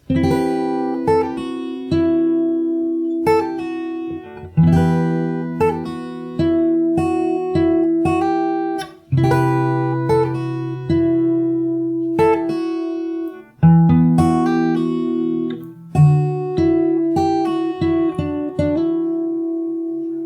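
Fingerstyle acoustic guitar plays the outro of a song, with plucked bass notes under ringing melody lines in a steady, phrased pattern, close and clear with no voices.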